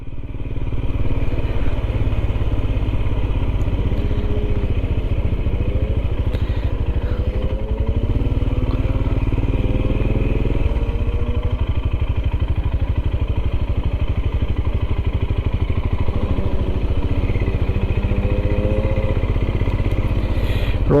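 A Royal Enfield Himalayan motorcycle rides along steadily, its engine a continuous close drone with faint clattering and changing pitch for about twenty seconds, and no talk over it.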